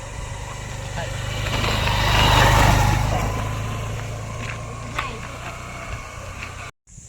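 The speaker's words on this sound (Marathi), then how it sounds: "मागून गाडी आले" A vehicle approaches from behind on a quiet Konkan village road at dusk in Sangameshwar, its engine rumble swelling to a peak and then fading away under steady low background hum before an abrupt cut.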